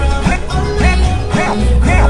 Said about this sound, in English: So here we go, baby scratches.